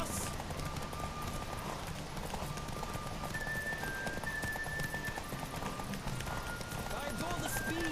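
Horse hooves galloping in The Witcher 3: Wild Hunt during a race, a steady rapid clip-clop running throughout under dense game sound and talking.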